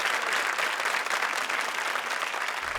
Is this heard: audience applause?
yes